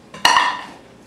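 A utensil knocks and clinks once against a mixing bowl, with a short ringing tail, while sautéed vegetables are stirred into an egg, milk, flour and spice mixture for a quiche.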